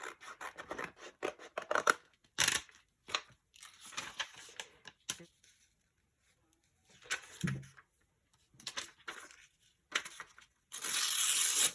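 Scissors cutting paper scraps for a big craft tag, close crisp snips and rustling in irregular bursts separated by short silences, with a longer rough cutting stretch at the end.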